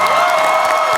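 Live audience at a NerdCon stage show applauding and cheering, a dense steady wash of clapping and whoops filling the whole moment without a break.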